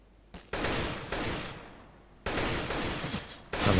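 Bursts of automatic gunfire in Counter-Strike: Global Offensive, loud rapid volleys separated by short gaps, close and dominant with no talk over them.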